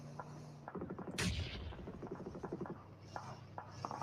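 Gunfire from a battle royale video game in an esports grand final, a quick volley of rapid shots then scattered single reports, fairly faint and distant.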